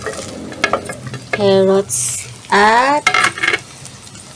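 Carrots are stir-fried in a pan for miki guisado, with loud squeaky tonal scrapes of the utensil, clinks and a short hiss of sizzle; a single word is briefly spoken.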